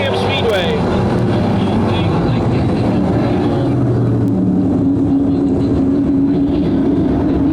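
Pro stock race cars roaring off the green flag at the start of a feature at Can-Am Speedway: a loud, dense, continuous engine drone from the pack, with an announcer talking over it.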